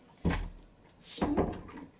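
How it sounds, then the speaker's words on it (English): A bedroom door in a university student room is opened quietly, producing two soft knocks and creaks of the latch and hinges about a second apart, close by with no talk. "my actual bedroom door, which if I open quietly, leads outside"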